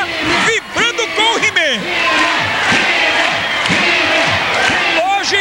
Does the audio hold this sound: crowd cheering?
yes